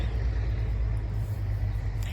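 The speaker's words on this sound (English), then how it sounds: "Sorry about that truck." A passing road vehicle, likely a truck, produces a steady low rumble of engine and tyre noise close by, lasting the whole short moment with no one speaking.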